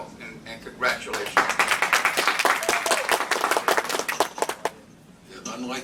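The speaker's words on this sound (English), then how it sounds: "appreciate everyone keeping the applause down" Applause from the audience at a state legislative hearing on a bill, a dense burst of many hands clapping that swells, holds for a few seconds, then fades, with talk faintly underneath.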